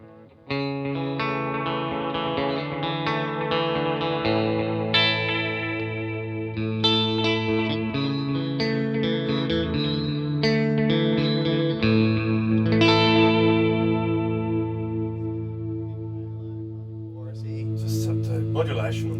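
Electric guitar played through a delay pedal with modulation, sounding as a melodic line of sustained, shimmering notes with echoing repeats and a chorus-like wobble, loud and close with no talking.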